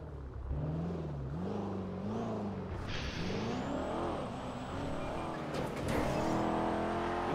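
A car drives in the video game GTA, its engine revving up and down through gear shifts, then surging into a loud acceleration with a rising whine near the end.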